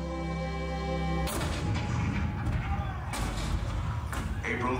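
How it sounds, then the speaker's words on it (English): Cannon fire from the Fort Sumter attack of 1861 booms in an exhibit soundtrack, a heavy blast breaking in after a sustained tone, followed by rumbling, crackling echoes and further shots. "April 12, 1861, Fort Sumter. The cannon spoke for war."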